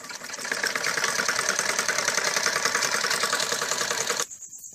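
A sewing machine stitches piping onto a kurti with a steady, fast mechanical whirring and rapid needle ticking for about four seconds, then stops abruptly. No one speaks.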